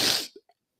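A single sharp human sneeze, loud and close, bursting out and dying away within a fraction of a second, followed by a faint short breath.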